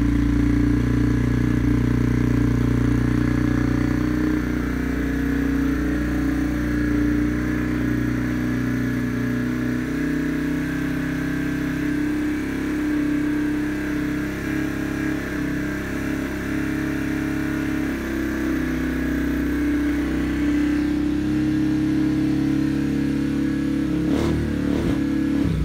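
The engine of a Yamaha TTR230 dirt bike runs steadily at close range, a continuous, slightly uneven, burbling drone that would benefit from jetting, with small wavers in pitch and a few sharp clicks near the end.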